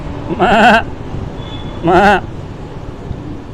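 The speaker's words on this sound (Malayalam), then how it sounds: "ഇവിടെ ഇങ്ങനെ റെസ്റ്റ് ചെയ്തിരിക്കുമ്പോൾ കുറച്ച് ആടുകൾ വരുന്നുണ്ട്." Two loud bleats from a goat, spaced about a second apart, with quiet outdoor background between them.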